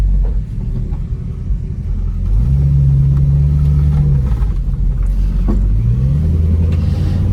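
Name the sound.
Plymouth Barracuda 440 engine with Quadrajet carburetor running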